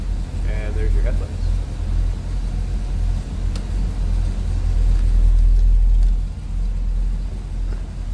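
A 1964 Chevrolet Corvette convertible engine runs nearby with a steady, deep low rumble that swells slightly midway, a voice speaking over it.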